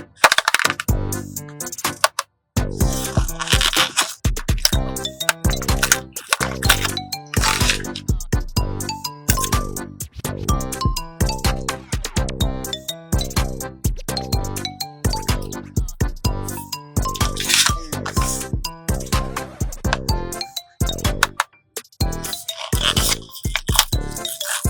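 Anpanman stickers are repeatedly pressed on and peeled off, a dense run of crisp crackling rips and tacky clicks, close and fairly loud, over a faint musical backing with no talk.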